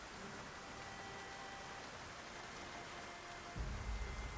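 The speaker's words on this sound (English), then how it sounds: "And, of course, it's heavily raining." Heavy rain in the video game Project Zomboid, a steady hiss of downpour that holds evenly throughout and swells slightly louder near the end, with no talking over it.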